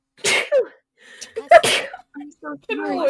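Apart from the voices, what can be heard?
sneeze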